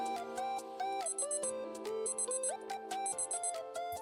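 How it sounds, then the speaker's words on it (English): A video game alarm clock rings in bursts of bright, repeating electronic beeps over a gentle melodic tune, pulsing in a steady rhythm, clear and fairly loud, with no voices. "Oh, alarm clock?"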